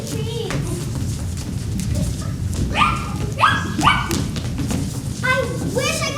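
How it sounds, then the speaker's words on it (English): A puppy barks and whimpers in a run of high yips and whines, some quick and sharp and some drawn out, fairly close and over a low background rumble. "That's not a wolf. That's that puppy again."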